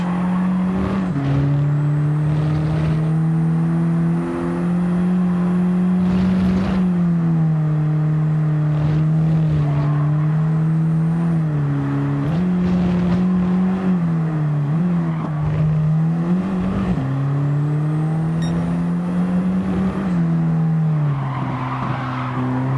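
Race car engine and tyres while racing online in the video game Gran Turismo 7, a loud continuous engine whine rising and falling through gear changes and corners, with tyre squeal in the turns.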